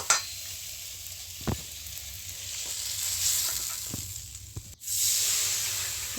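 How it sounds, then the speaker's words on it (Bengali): Mango pieces stirred in hot ghee with bay leaf and salt for mango jelly, a soft continuous sizzle with occasional spatula scrapes and a brief clatter near the end. "ঘি, তেজপাতা দিয়ে আর লবণ দিয়ে নাড়া হচ্ছে।"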